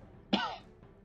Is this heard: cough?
yes